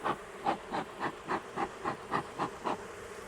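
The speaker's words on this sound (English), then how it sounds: "I am going to try to get quite a few of the bees out here. I'd love to get them back down in the hive too." Honey bees buzz around an open hive during fall feeding, a close, pulsing hum that swells and fades in a regular rhythm, with no talking.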